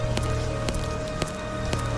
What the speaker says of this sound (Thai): It is very rainy. Very rainy here.